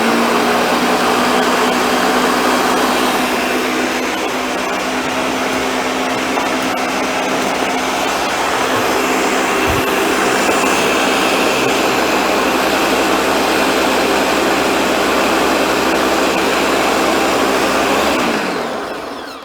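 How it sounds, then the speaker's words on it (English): A blender mixes cheesecake pie batter on medium speed with a loud, steady whir that runs for nearly twenty seconds and cuts off at the end. The sound is close and there is no talking. "I'm going to turn this blender on, and I'm going to let it really blend for a few minutes."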